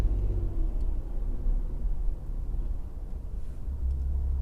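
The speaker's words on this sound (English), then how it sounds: "I'm just sitting here listening to the traffic" Steady low rumble of city traffic, a continuous wash of passing cars and engines at moderate distance with no distinct individual vehicles, holding an even level throughout with no talking.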